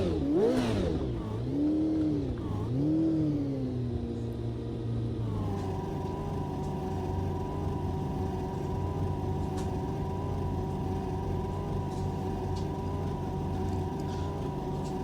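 Lotus 72E racing car engine in the racing game Automobilista 2 at Spa-Francorchamps 1970, revving up and down in rising and falling sweeps, then settling into a steady loud drone.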